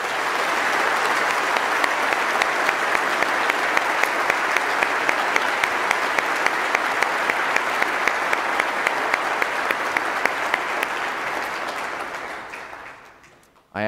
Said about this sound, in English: Let's give a round of applause for all these couples.